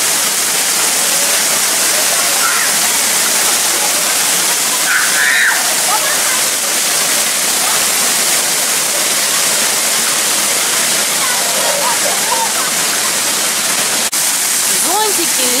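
Water pours steadily at a water park attraction beside a hotel pool in Turkey, a loud continuous rushing splash filling the whole stretch without pause.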